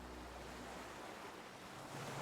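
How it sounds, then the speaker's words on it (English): Waves wash steadily against a dock in the Disco Elysium video game, a continuous soft surf with a faint breeze and no voices. "The skiff is swaying on the waves by the dock."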